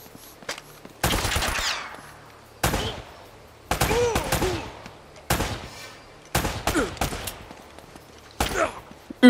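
Gunfire rings out in the video game Uncharted: Drake's Fortune, with shots traded from a distance. Around seven separate bursts of rapid shots crack out loud and close, each one trailing off before the next volley.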